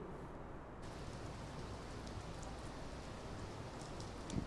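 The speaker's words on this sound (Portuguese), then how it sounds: "chuva de temporal agora, viu? Até com alguns raios e trovões nesse momento." Heavy thunderstorm rain falls in a city, a dense, even hiss of downpour that holds steady, faint and distant throughout, with no voices.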